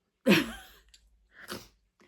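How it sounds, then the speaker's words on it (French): A single sharp sneeze bursts out close by, followed by a softer sniffing exhale and a faint trailing breath. "Excusez-moi, je vais éternuer."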